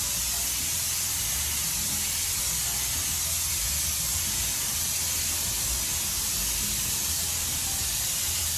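A spray gun lays top coat paint onto a Peugeot J9 coffee van in a makeshift spray booth, producing a constant loud, close hiss with no breaks.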